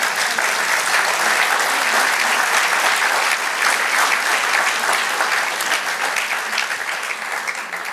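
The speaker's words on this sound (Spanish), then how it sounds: "Denle un aplauso al Señor." A church congregation at a Spanish-language service bursts into sustained, loud applause that fills the room evenly, with dense overlapping claps fading only slightly toward the end.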